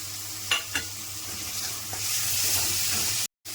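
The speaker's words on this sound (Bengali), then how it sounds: "এবার চিংড়ি মাছগুলো দিয়ে দিচ্ছি" Prawns tipped into a pan of fried ground spices and poppy-melon seed paste give a steady close sizzle, with two sharp clinks near the start and a brief dropout near the end.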